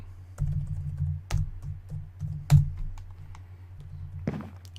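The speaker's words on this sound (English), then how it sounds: "The world's loudest keyboard." Loud, close-miked clacking of a computer keyboard during a Minecraft session, with rapid uneven keystrokes and a few heavier thumps, no talking.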